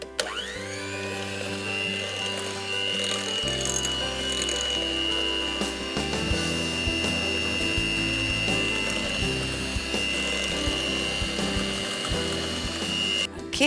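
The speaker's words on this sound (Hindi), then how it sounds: "अब इसे हम बीट करेंगे जब तक चीनी घुल ना जाए।" Cookie mixture of butter and sugar being beaten in a bowl with an electric hand mixer, a steady motor whine with rattling, scraping clicks running continuously throughout, close and fairly loud, no talking.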